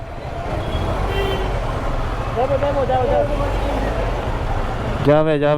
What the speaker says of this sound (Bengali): জ্যামের শেষ নেই, সারাদিন জোরে জ্যাম ঠেলতে এখনো জ্যাম ঠেলতেছি স্টিল।